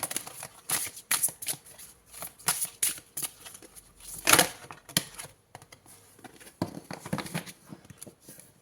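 Tarot cards being shuffled in quick, irregular bursts of soft riffling and slapping, close and fairly quiet, with brief pauses between handfuls.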